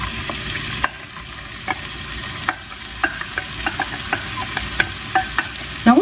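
Carrots, onions and celery sauté in melted butter over medium-high heat, a constant close sizzle punctuated by repeated light clicks of a spoon stirring the pan.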